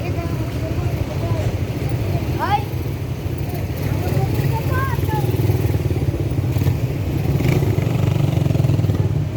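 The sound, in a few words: motorcycle passing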